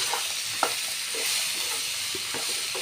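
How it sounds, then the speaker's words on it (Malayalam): Ivy gourd tossed into a hot pan and stirred, a steady close sizzle with soft scraping stir strokes at an uneven pace. "ഇതിലേക്ക് ഈ കോവക്കേന അങ്ങോട്ട് ഇട്ട് കൊടുത്തിട്ട് നല്ലോണം ഇളക്കി കൊടുക്കട്ടോ"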